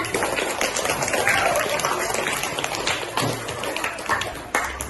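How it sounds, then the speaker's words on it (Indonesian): Children applauding in a classroom, a dense patter of many small hands clapping continuously at moderate loudness, with a faint voice underneath. "tepuk tangan buat kita semuanya"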